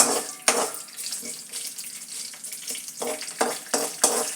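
Tempering spices fry in a couple of spoons of hot oil for an eggplant pulusu, crackling and spitting in short repeated bursts over a steady close sizzle.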